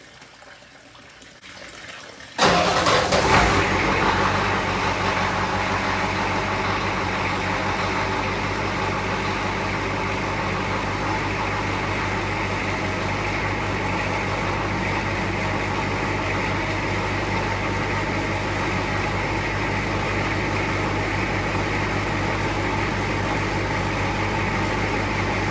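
A 1986 Ford truck's IDI diesel engine cranks and catches, then idles steadily and loudly for a long stretch with a constant rumbling drone and a watery gushing undertone, no voices.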